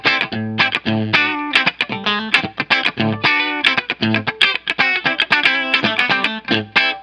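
Bright, distorted electric guitar on the bridge pickup with a sharp, cutting tone plays a quick run of chords and notes, loud and close.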